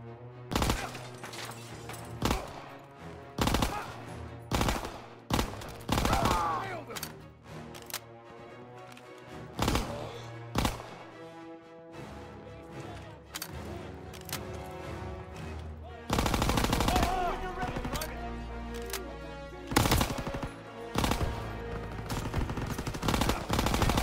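Gunfire in the World War II shooter Call of Duty: WWII, with sharp single shots and rapid bursts of automatic fire repeating over a steady background of game sound, loud and close throughout.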